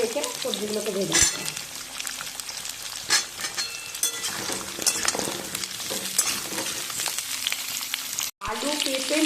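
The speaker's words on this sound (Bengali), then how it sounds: "এই সময় গ্যাসটা আমি হাই ফ্লেমে রেখে সবজিগুলোকে ভেজে নেব।" Potato, papaya and sweet potato frying in oil over a high gas flame for shukto, a loud continuous sizzle with scraping stirs and brief clinks, close up.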